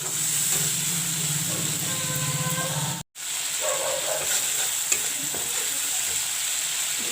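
A spiced masala with chili powder and turmeric frying in a pan, giving a constant close hiss and crackle with a faint tonal hum, cut by a brief dropout midway; no talking.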